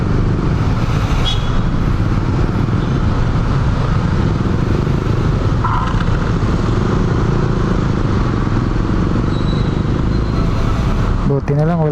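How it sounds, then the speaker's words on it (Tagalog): Road traffic in a jam, a loud continuous rumble of car and motorcycle engines close by, with clattering and passing vehicles throughout and a short tonal sweep at the very end. "Ba't kayang traffic?"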